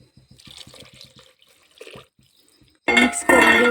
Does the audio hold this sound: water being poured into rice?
yes